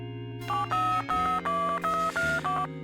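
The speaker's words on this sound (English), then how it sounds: "Try to call Reggie." Telephone keypad tones from The Dark Half PC game, a quick series of about six distinct dialing beeps in steady rhythm, clear and close, with no talk.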